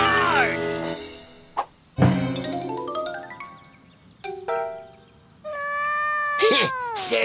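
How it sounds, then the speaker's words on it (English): A kids' cartoon cat lets out several long, wavering meows with rising and falling pitch, separated by short gaps, alongside bright chiming music; voices may be present. "No cats are allowed in my yard!"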